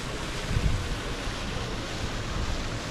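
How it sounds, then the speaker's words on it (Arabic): Ocean waves break on the beach shore at a Moroccan seaside resort, a broad continuous wash of surf mixed with wind rumble, with one slightly stronger surge early on. "الصوت ديال المواج"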